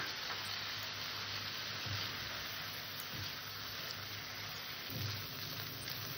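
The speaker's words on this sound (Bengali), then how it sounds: "সেইভাবে মশলাটাকে আমি সুন্দর করে কষে নেব।" Spice paste with slit green chillies being sautéed in oil for a fish dish produces a faint, even, rain-like sizzle throughout, with a low background hum underneath.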